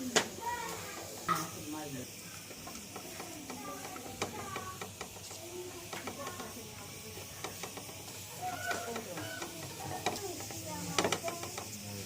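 Ground dates stirred in a little ghee in a pan for dates laddoos, with irregular scraping and clinking of a spoon against the pan, fairly faint, over a background of household noise.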